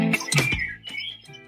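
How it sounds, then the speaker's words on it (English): A blackbird sings in a garden, close and clear, with varied fluting whistles and short chirps in a quick phrase and a softer follow-up, with no talking. "I can hear the birds in the garden."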